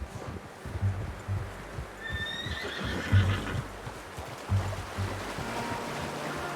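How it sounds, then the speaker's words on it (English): A horse in the video game Red Dead Redemption 2 whinnies once in a rising, wavering cry amid soft clip-clopping hooves and a low rumbling outdoor background. "How's that new horse?"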